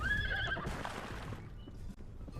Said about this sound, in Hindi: फिर श्याओ घोड़े पर बैठकर चली जाती है।